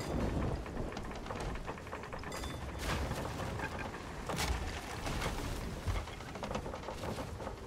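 Storm at sea in a video game: steady heavy rain fills the whole stretch, with a few sharp cracks and rumbles of thunder rising above it, loud and continuous, with no talking.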